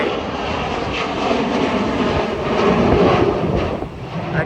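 Engine roar of a CRJ regional jet at MSP airport on a very windy day, a loud, broad, steady rushing drone that swells slightly and then eases, with no talk.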